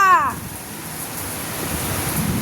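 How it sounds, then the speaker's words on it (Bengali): Heavy rain pours in a storm with wind, a steady loud wash of noise after a short tonal squeal at the very start. "পুরো বৃষ্টির ঝড় জল জমে গেছে বারান্দায়"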